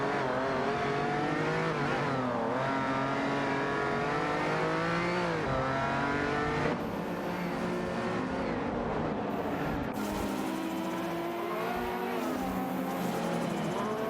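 Ferrari 308 GTS race cars in a racing video game, engines droning and revving steadily through gear changes for the whole stretch, several cars close together with rising and falling pitch and brief tire noise.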